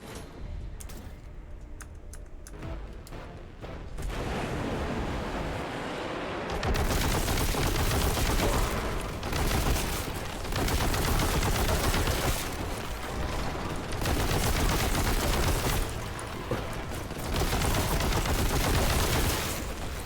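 Heavy weapon gunfire in Warhammer 40k Boltgun, loud sustained bursts of rapid shots after a quieter opening, continuing in dense volleys with brief pauses.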